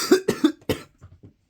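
A person coughs in a quick series of three or four close, harsh bursts, followed by a few fainter trailing breaths, with no talking.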